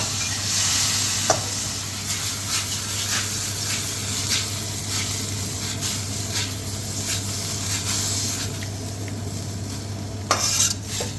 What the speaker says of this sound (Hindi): अब मैं इसको अच्छी तरह मिक्स कर लूँगा।